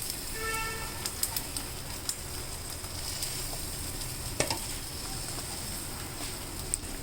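An egg omelette sizzles in a small pan with a steady crackling hiss, punctuated by a few sharp clicks and taps of a utensil, close and continuous.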